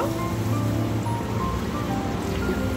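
Water poured into a pan of hot fried spice paste for a tilapia tel jhal hisses and sizzles loudly and continuously, like heavy rain.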